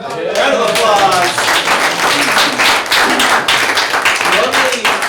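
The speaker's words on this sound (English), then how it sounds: "Let's give him a warm round of applause." Applause at an office meeting: a dense round of clapping from a small group, close and steady for several seconds, with voices talking over it.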